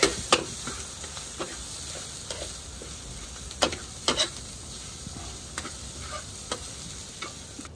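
Bamboo shoots sautéed with ginger, garlic and onion are stirred in a pan, with a steady sizzle under repeated sharp scraping and tapping strokes of a utensil against the pan, close by and with no talking.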